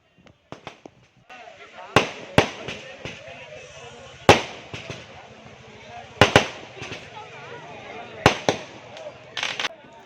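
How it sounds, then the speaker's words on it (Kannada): Vishnu chakra firecrackers going off at a Sri Rama Navami village festival, a steady crackling fizz broken by several sharp loud bangs, with people talking in the background. "ವಿಷ್ಣು ಚಕ್ರ ಪಟಾಕಿ ಹೊಡಿತಾರೆ ತುಂಬ ಚೆನ್ನಾಗಿರುತ್ತೆ"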